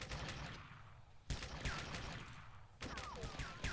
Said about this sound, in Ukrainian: Звідки в мене стріляє?